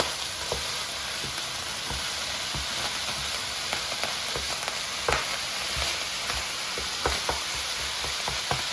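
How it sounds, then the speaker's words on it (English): Ground chicken sizzles loudly in a pan, a constant crackling hiss with scattered pops and light scraping from stirring. "You can hear it sizzling."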